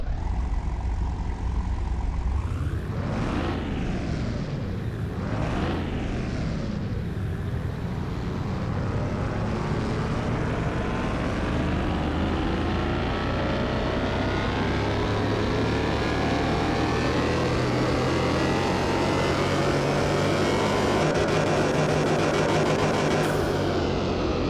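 A car engine on a dyno test in Car Mechanic Simulator 2021: two quick revving blips, then a long, loud, climbing pull that drones on steadily, heard alone.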